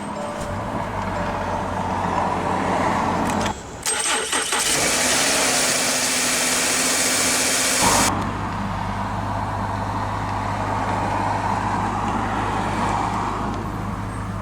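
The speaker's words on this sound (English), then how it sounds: "let's go ahead and start the engine" A 2020 Subaru Legacy Sport engine cranks via push-button start and fires, revving briefly before settling into a steady low idle; the start is loud and close, with no talking.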